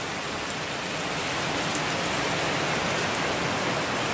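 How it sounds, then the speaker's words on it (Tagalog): Heavy rain pours steadily onto a roof in a dense, unbroken hiss that holds at the same loud level throughout, with no voices over it. "Lakas ng ulan."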